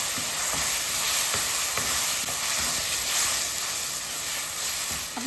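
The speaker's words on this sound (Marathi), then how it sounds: "गॅस एकदम स्लो ठेवून आपण त्याला छानपैकी परतून घ्यायचं" Ground spinach paste sautés in a pan on a low flame under a constant soft sizzle, while a spoon stirs and scrapes in an even repeating rhythm close by, with no talking.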